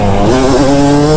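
A Yamaha YZ250 two-stroke dirt bike pulls at full throttle up a short uphill out of a corner, its loud, buzzing engine note climbing steadily and close by.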